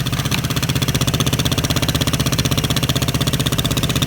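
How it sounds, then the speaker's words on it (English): A 7mm drill bit bores straight through the top of a Vespa LX scooter exhaust, making a loud, steady, rapidly pulsing mechanical grind that continues without a break. "drill on the highest part, straight through, so as I said in the previous video, to bypass the catalytic converter and silencer chamber"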